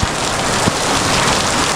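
Steady rain pours down in a heavy, continuous hiss, with a couple of soft thumps near the start. No one speaks.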